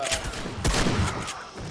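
A burst of gunfire rings out in the zombie survival game 7 Days To Die during a co-op fight with police zombies, one sharp loud volley amid muffled in-game background noise.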